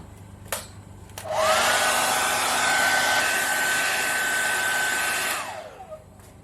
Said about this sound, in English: I'm going to speed dry this